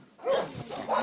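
A small young puppy, one of several dogs, gives brief whimpering yips close by, quick and fairly clear, with no talking over it.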